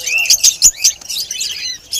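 Budgerigars and lovebirds in a pet market, giving a quick flurry of bright, close chirps and tweets in short overlapping bursts.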